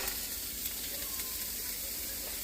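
Shallots sizzling in hot shimmering oil in a pan for fried rice, a continuous close, even hiss at moderate level.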